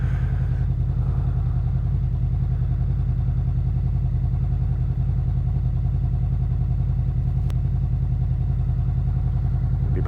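A Honda VFR800 motorcycle engine runs steadily in summer heat, close and continuous with a low, even rumble that never lets up, and no one speaks.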